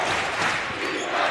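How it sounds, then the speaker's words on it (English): Crowd in a basketball arena during a college game, a dense continuous roar of cheering and noise, loud and unbroken throughout with no distinct pauses. "The crowd engaged as ever."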